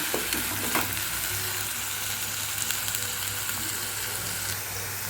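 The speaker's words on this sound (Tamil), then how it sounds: "அரைச்ச வெங்காயத்தை நல்லா பச்சை வடை போகிற அளவுக்கு வதக்கலாம்" Steady sizzling from a hot pan as ground onion paste fries, with a few soft scraping stirs and no talking.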